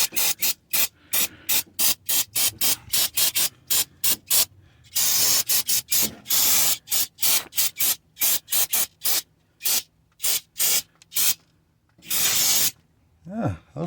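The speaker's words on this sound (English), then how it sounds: "Let's spray that dirt away with some of this starting fluid." Starting fluid from an aerosol can sprays in short hissing bursts onto the spark plugs of a 1973 Ford F-250, close and loud, in a quick irregular rhythm with a few longer blasts.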